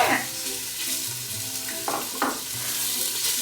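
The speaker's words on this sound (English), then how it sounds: "The sizzle tells it's working." Ingredients for Filipino pancit sizzle and fry in a pot, a steady close crackle broken by a few louder stirring scrapes and clinks.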